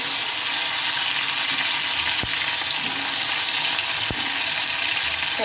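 Cumin seeds and tomato frying in well-heated oil in a wok, a loud, even, hissing sizzle with two brief knocks, continuous and close without speech.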